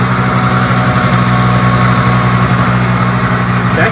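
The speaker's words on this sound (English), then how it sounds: "It's actually idling and running pretty good" A Yamaha Vino scooter engine idles slightly high, a loud, steady, close putter with an even buzzing drone and no speech.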